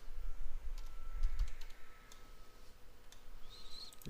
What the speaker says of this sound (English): So here you have to type Adani Ports.